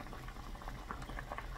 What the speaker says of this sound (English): Once they're boiling, I'm just gonna turn these down to a simmer